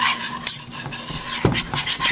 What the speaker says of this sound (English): Now I'm going to whisk this all together